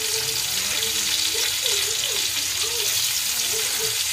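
Sliced onion frying in a pan for a dish of dried anchovies with potatoes, a steady close sizzle running throughout with faint voice-like tones under it.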